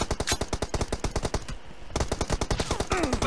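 M416 assault rifle in PUBG team deathmatch, firing rapid full-auto bursts, loud and close, with a brief pause in the middle before the rhythmic fire resumes.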